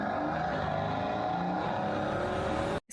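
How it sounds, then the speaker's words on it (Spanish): A Maybach car engine runs with a steady, continuous hum, close and fairly loud, before cutting off abruptly at the end. "Sí suena como un carro"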